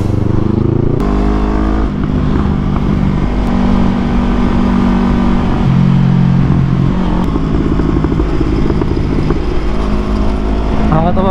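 A 2024 Kawasaki Eliminator motorcycle fitted with an Akrapovic exhaust revs loudly nearby, a steady engine drone rising and falling through several throttle changes, with chatter and road noise mixed in.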